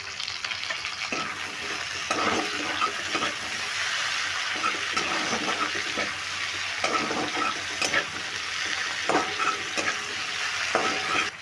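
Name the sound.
tomato added to frying onions, sizzling and stirring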